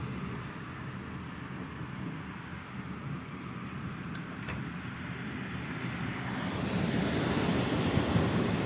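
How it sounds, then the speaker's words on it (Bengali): Steady, dense rush of heavy rainfall in Saudi Arabia, water pooling on the streets, a broad continuous roar that swells slightly louder toward the end, with no voices. "কঠিন বৃষ্টি মুসলধারা বৃষ্টি হচ্ছে দেখেন"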